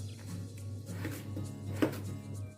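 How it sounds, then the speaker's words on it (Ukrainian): Potatoes being chopped with a knife on a board for a vegetable soup made on chicken broth, a run of soft, fairly close cuts with one sharper knock near the end, over a steady low background hum. "Для початку наріжемо нашу картопельку."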